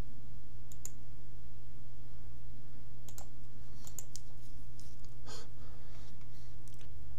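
Computer mouse clicks, a few separate sharp taps spread irregularly across a quiet background hum, close and fairly crisp, with no talk over them.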